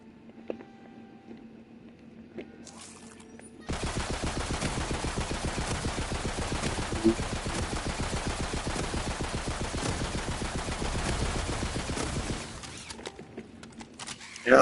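Long, rapid stream of legendary submachine-gun fire in the game Tiny Tina's Wonderlands, a fast even rattle held for about eight seconds after a quieter opening, moderately loud with no speech.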